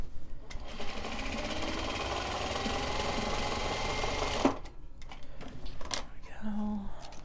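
A sewing machine stitches Japanese fabric over a seam allowance, running in one steady, close whirring burst for several seconds before stopping abruptly, followed by brief quieter handling sounds.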